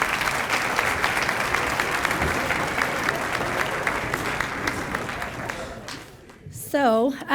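An audience at a school sports banquet applauds in a dense, steady burst that fades toward the end, followed by a brief voice over the last of the clapping.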